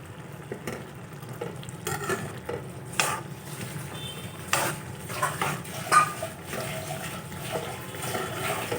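Dried prawn curry bubbling in a pan, with a soft simmer beneath scattered clinks and stirring scrapes of a utensil against the pan, no talking.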